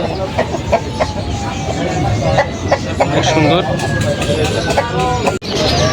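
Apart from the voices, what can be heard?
large rooster at a poultry market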